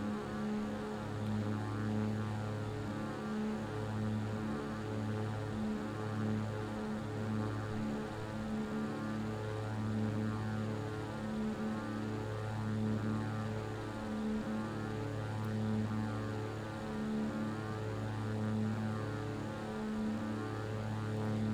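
An Airbus airliner's engines in the X-Plane 11 flight simulator, flying over Devon in the UK, hold a steady, even hum with a low rhythmic pulsing throbbing throughout, constant and moderately loud.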